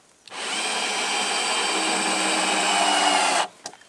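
A power drill drives terrace screws into logs while building a log lean-to shelter, a steady loud whine held for about three seconds before stopping, followed by faint clatter.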